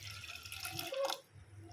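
Water splashes and trickles briefly into a pot of village-style dried-fish curry, a soft, close pour that fades out quickly.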